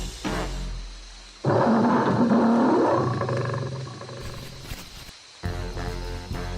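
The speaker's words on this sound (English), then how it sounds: "The lion roared so loud it knocked Peter right off his chair." A loud, close lion roar sound effect bursts in, a long rough growling roar lasting a couple of seconds before fading, framed by softer background music.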